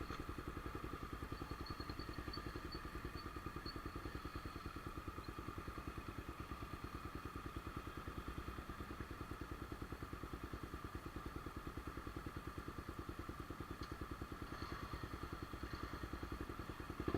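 Motorcycles with loud aftermarket exhausts rumble at a traffic light in a small town, a steady, continuous engine drone with clattering pulses throughout and no clear surge of pulling away.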